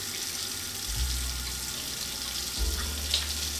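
Tap water runs steadily into a sink while a face is washed with foam cleanser, a continuous close splashing hiss with brief changes as hands move under the stream.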